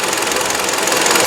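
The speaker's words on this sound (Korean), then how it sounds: "공회전 상태로 시동을 켜놓은 상태입니다." A car engine runs loudly and steadily at idle after a spark plug gap adjustment, with a fast, even mechanical clatter throughout and no voices.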